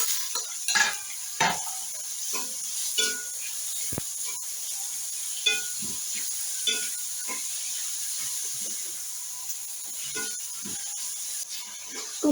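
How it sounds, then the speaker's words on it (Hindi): Four onions fry with cumin in a cup of oil in a kadhai, giving a continuous bright sizzle and hiss with frequent spoon scrapes and clinks as they are stirred until light brown. "तो थोड़ा सा हल्का सा ब्राउन होने तक हम इसको फ्राई करेंगे।"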